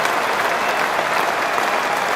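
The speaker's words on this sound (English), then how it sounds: "Greeted with a cheer." A cricket crowd at Lord's applauds and cheers as a batsman reaches fifty in a bicentenary match, a dense, steady wash of clapping from a large distant crowd, unbroken for a couple of seconds.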